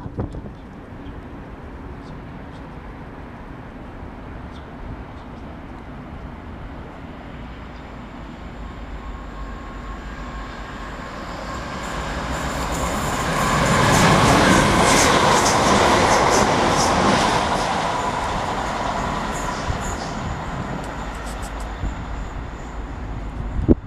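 A train passes through Clapham Junction bound for London Euston, rising from a low distant rumble into a loud broadband roar with rail squeal midway, then gradually fading back out.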